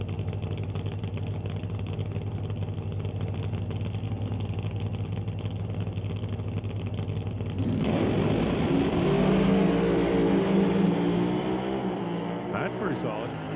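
A top alcohol dragster at an NHRA drag race in the Northwest roars on a run, a steady engine drone swelling into a louder, rising blast midway before easing off, with an announcer talking over it.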